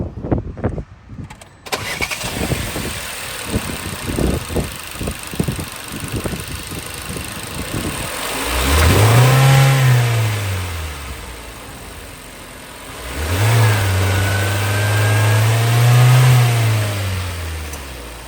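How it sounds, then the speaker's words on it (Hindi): A 2022 Hyundai Tucson petrol engine starts with a few clattering cranks, then revs up twice in long rising and falling surges, loud and close, with no talking. "आइए अब पेट्रोल इंजन की साउंड सुनते हैं।"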